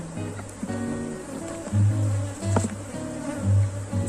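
A weak swarm of bees buzzes near and steadily, swelling in a few louder bursts over a continuous insect drone, with no talk.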